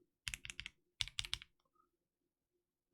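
Close, crisp typing on a mechanical keyboard with lubed 400-year Cream switches, two quick bursts of keystrokes with a short pause between, then quiet.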